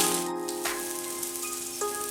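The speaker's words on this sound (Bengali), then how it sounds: "চালটা ভালো করে ঘির মধ্যে একটু ভেজে নেব" Rice fries in ghee with a steady close sizzle and faint crackle, a soft stirring scrape breaking in twice, with no talking.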